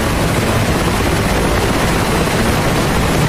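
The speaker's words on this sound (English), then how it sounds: "Helicopters are sling loading." Helicopter rotor and engine drone from DCS World flight simulation during sling loading, a steady, loud, broadband roar holding constant throughout with no talk over it.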